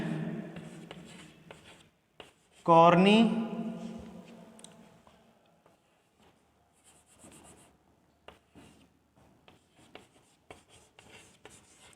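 Marker or chalk strokes on a classroom board come as a run of faint, short scratches and taps, with a loud rubbing burst near the start and a man lecturing at times.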